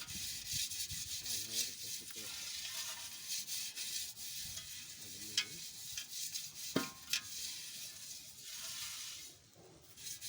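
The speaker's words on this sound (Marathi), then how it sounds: "त्या भांड्याला मी आता थोडीशी माती लावून घेते" Clay is rubbed onto a metal cooking pot outdoors in hot sun, making a soft, continuous scraping and rubbing sound with occasional light knocks, faint and close.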